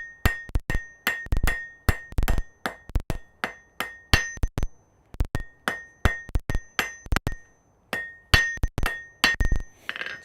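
A hammer strikes hot steel again and again on an anvil in a smithy, drawing out a steep taper. The loud, ringing blows fall in quick bursts with short pauses between them, and no voices are heard.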